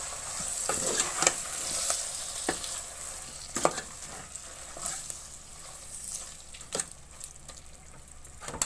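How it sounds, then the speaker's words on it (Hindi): Diced potatoes frying in a pan for a spicy keema dish, with a steady close sizzle and occasional sharp scrapes and clinks of a spoon stirring through them. "अब इसको मैं थोड़ी देर भून लूंगी।"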